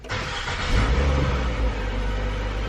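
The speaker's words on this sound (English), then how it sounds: "we'll go ahead and check that the car starts" A 2013-2019 Nissan Sentra engine, recently repaired after a crankshaft position sensor fault, cranks briefly and fires up quickly, settling into a loud, steady idle rumble close by with no talking.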